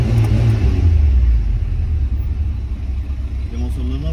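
Tofaş car engine with a newly fitted exhaust, a loud deep rumble that idles and briefly revs at the start, then settles into a low steady burble, with people talking nearby.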